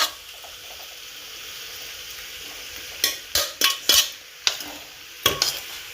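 Cooked pasta being stirred in a pan, a quiet background sizzle and then a series of sharp utensil scrapes and clacks against the pan, close by with no speech.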